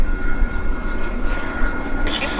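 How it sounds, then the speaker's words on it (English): A small Embraer jet with tiny engines taxis at Vancouver airport, giving a steady, loud engine roar and whine with a faint higher tone rising near the end, and a voice talks over it. "Taxiing out, we got a baby Embraer. The tiny engines."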